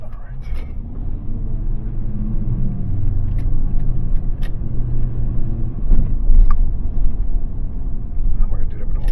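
Inside a moving 2004 GMC Envoy, a constant low engine and road rumble fills the cabin while surrounding traffic passes outside, steady and close throughout.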